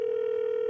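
A steady telephone dial tone from a call line, heard alone as one unbroken flat hum with no voices over it.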